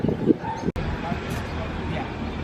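A dog barks a few times close by at a holiday aparthotel in Majorca, mixed with people talking and general outdoor background noise.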